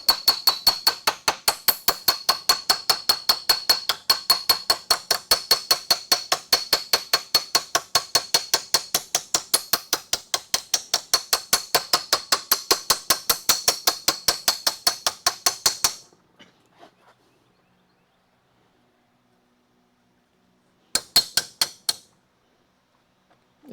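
Rapid, evenly spaced hammer blows ring on sheet metal during a Dodge Charger body restoration, a loud metallic tapping run for about sixteen seconds, then silence and a brief final burst of strikes.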